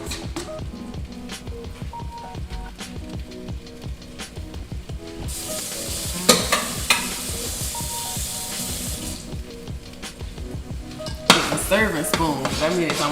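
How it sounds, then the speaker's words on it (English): Potatoes frying and thickening in a pan on a home stove, with kitchen clatter and water-like hiss rising in two louder bursts, punctuated by a few sharp knocks of utensils against the pan. "Some potatoes thickening, I hear it."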